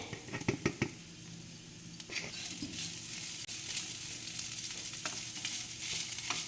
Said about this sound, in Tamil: அதை வந்துட்டு போட்டு கொஞ்சம் நெய்யிலே வறுத்துப்போம்